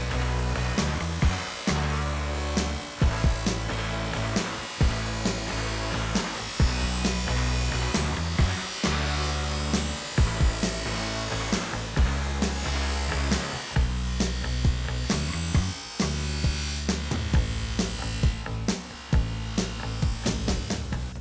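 A rotary polishing wheel works a metal part in a home workshop, giving a loud, continuous whirring grind with steady rhythmic surges as the wheel sweeps back and forth across the piece.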